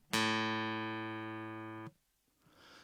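A guitar string plucked and tuned to A rings out as a single sustained note with rich harmonics, fading slightly over nearly two seconds before stopping abruptly, followed by faint background noise.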